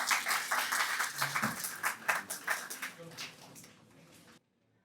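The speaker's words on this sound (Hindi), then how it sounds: "आपके तालियों की गूंज में" Audience applause at a drug awareness event, a few seconds of dense clapping from a crowd that swells, then tapers off and stops abruptly.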